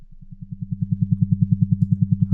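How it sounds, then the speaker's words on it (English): A multichannel harmonic additive synthesis drone built in Max/MSP, a low steady tone that swells in quickly with a fast, regular pulsing throb, heard alone and clean. "Okay, kind of a drone-like sound."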